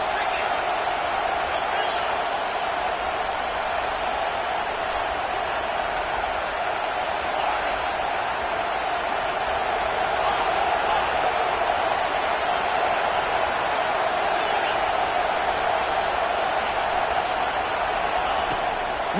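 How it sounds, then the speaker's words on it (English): A college football stadium crowd roars during a big third-down play, producing a steady, loud, unbroken wall of cheering that holds level across the whole stretch. "Big 3rd down as the crowd gets behind this defense"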